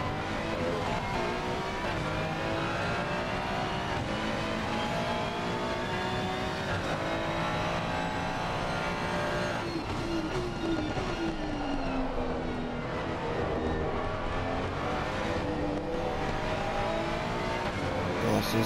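Race car engine heard onboard during a night lap at Zolder in Assetto Corsa Competizione, a steady loud drone with rising and falling revs through gear changes, continuous for the whole stretch with no talking.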